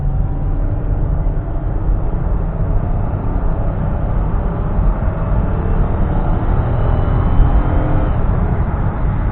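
A new van pulls out and accelerates, a steady loud low rumble of engine and road noise inside the cabin that builds slightly toward the end, with no talk.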